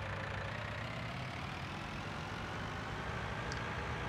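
A tractor engine idles steadily in Farming Simulator 19 while hay bales are stacked into a barn, a continuous low mechanical rumble with no break and nobody speaking.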